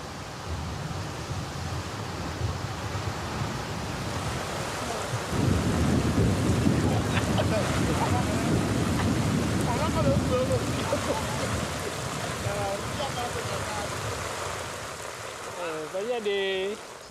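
Tropical thunderstorm with rain during the rainy season on the Bissagos Islands off West Africa, a steady broadband wash of rainfall with low rumbling thunder swelling midway and lingering to the end.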